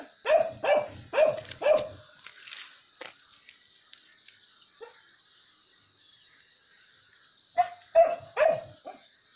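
A hunting dog used for boar hunting barks in two bursts, four loud close barks in quick succession at the start and another cluster near the end, with crickets or insects chirping steadily underneath.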